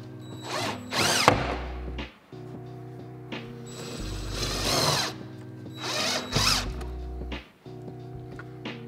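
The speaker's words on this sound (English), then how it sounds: "check that you're going to use a suitable angle for your drill and your screw" A power drill whirs in several short bursts, driving self-tapping screws into a van tailgate while fitting a window blind, with quiet pauses and faint handling noise between runs.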